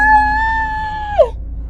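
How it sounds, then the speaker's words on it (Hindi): A sustained, shrill scream for a horror story, high and tonal. It holds steady for about a second, then breaks off with a sharp downward crack into silence. "तभी नीलू के कान में किसी के चिल्लाने की आवाज आती है।"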